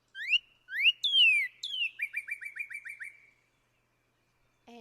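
A cardinal calls with sharp rising and falling whistled notes that sound like a little laser, starting with a few slurred chirps and then a quick run of repeated notes, clear and close, followed by silence.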